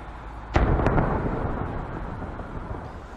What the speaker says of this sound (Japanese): 大きな爆発音が聞こえました。